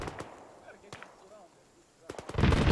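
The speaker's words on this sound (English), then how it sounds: "That's friendly shots going in. Friendly shots hitting him." Friendly troops firing in an Arma 3 tactical jungle assault: a few scattered distant shots, then a loud, dense burst of gunfire at the end, with faint voice traces.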